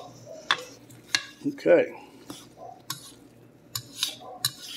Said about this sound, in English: So as you can see, we're mixing here